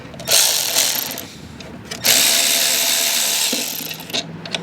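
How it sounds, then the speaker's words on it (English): Electric ratchet spinning off bolts on a 2700 PSI Troy-Bilt pressure washer, two loud sustained whirring bursts separated by a short click-like gap, close up with no talking. "I'm gonna use my electric ratchet to send these out."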